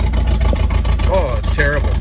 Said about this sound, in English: sounds brutal with that exhaust off of there